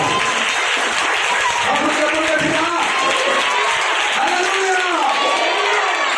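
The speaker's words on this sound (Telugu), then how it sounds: "కొట్టండి చప్పట్లో." A church congregation claps together in dense, sustained applause that fills the whole stretch at a steady, loud level, with crowd murmur and voices mixed underneath.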